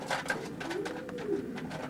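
Racing pigeons coo softly and steadily inside a widowhood loft section fitted with large nest boxes, several birds overlapping in a continuous close murmur.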